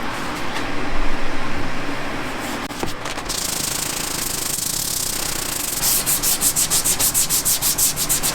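Abrasive scuffing roughens the surface of a boat's keel, a continuous loud rubbing grind that shifts into rapid rhythmic back-and-forth strokes near the end, close up with no talking.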